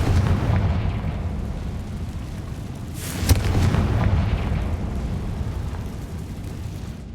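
A Confringo blasting spell fired in Hogwarts Legacy gives a single sharp explosive burst in the middle, rising out of a steady rumbling game background.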